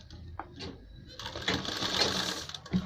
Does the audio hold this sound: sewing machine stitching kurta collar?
yes